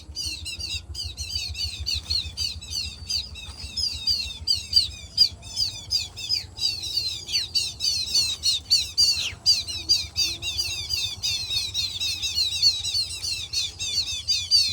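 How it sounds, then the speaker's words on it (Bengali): Many birds squawk and chatter overhead in a dense, continuous chorus of harsh, overlapping calls, steady and fairly loud throughout with no talking. "এই যে মাথার উপরে যে পাখিগুলা দেখেন"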